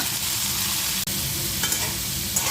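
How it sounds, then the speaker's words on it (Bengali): Shrimp frying with onions in a pan makes a dense, constant sizzle with a brief dip in the middle, close and fairly loud, and no one speaks. "পেঁয়াজের সাথে চিংড়ি মাছটাও ভেজে নেব, তারপর মশলা দিয়ে দিব।"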